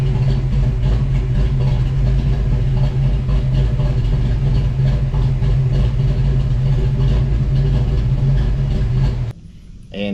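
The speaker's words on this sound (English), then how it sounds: "It actually idles really good. There's no hunting, no surging." A car engine with an E303 cam idles steadily and evenly for several seconds, a smooth low hum without surges, cutting off abruptly near the end.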